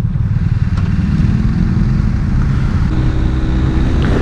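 A BMW R 1250 RT touring motorcycle on the move: a steady, close, low engine drone with road and wind rumble, with no talking.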